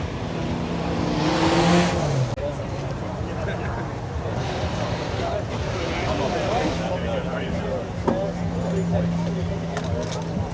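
Race cars at Castle Combe circuit during an autumn action day drive past in a steady engine roar, with a louder pass and rev early on and continuous motor noise throughout, people talking over it.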